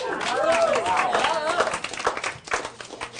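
Brief scattered clapping and applause from a small group after a Rubik's cube solve, mixed with voices, thinning out after a couple of seconds.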